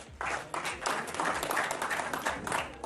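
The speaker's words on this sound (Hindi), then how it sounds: "ताली बजाइए जोर से" Brief burst of audience clapping at a political comedy show, a moderately loud crowd of hands clapping briefly and evenly.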